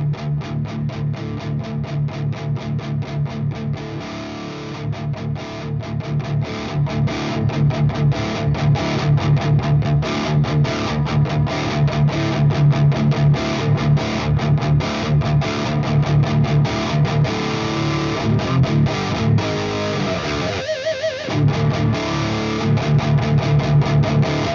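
An electric guitar played through a REVV G4 high-gain distortion pedal with reverb and delay added, loud and continuous, with sustained heavily saturated notes ringing over a dense, steady drive and one brief break near the end.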